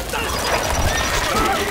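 A horse whinnies over dense, continuous music and effects from the strategy game Stronghold Crusader HD, with a faint voice mixed in.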